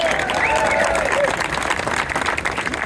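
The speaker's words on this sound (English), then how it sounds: "Let's give Phil Van Cleve and the VCDL a round of applause." An audience applauds at a pro-gun lobby day rally with speakers, giving dense crowd clapping that stays loud for about three seconds while a few voices and cheers rise above it.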